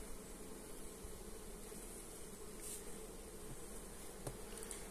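Honey bees in a Dadant hive, a dense, continuous buzzing hum of many insects close by, steady throughout with no speech.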